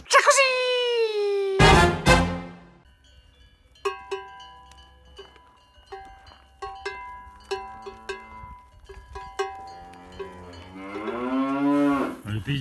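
Cows moo repeatedly, one long loud low moo opening the clip, then quieter calls in the distance amid other farm sounds, and a long rising moo at the end.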